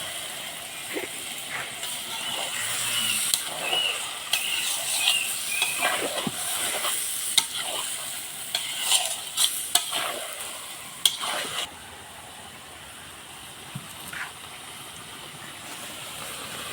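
Meat being stirred and fried with spices for kosha in a pot, a continuous sizzle and hiss with repeated scraping strokes of a spoon, close by; the frying quiets down toward the end.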